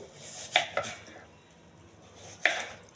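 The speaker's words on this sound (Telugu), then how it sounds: "యాపిల్ శుభ్రం కడిగి చిన్న ముక్కలుగా కట్ చేసుకోవాలి." A knife chops an apple into small pieces on a board: a few sharp, close knocks in a loose rhythm, two near the start and one later, with quiet pauses and no talk.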